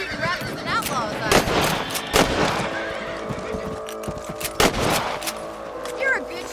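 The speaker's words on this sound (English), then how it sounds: "Better at shooting rabbits than outlaws" Rifle fire aimed at rabbits in Red Dead Redemption, several loud cracks scattered irregularly with echoing tails, a horse whinnying in places and a voice talking briefly between shots.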